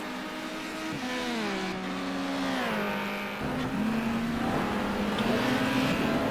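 A race car engine snarls and shifts pitch as the car spins at High Speed Ring during a touring car race, the revs sliding down then climbing back up, loud and close.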